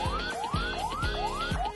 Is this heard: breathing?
no